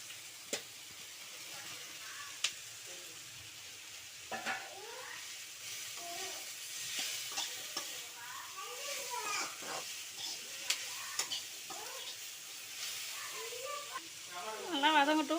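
Ridge gourd sautés in a pan with tamarind and garlic for chutney, a soft continuous sizzle with occasional stirring scrapes, while someone talks over it, growing louder near the end.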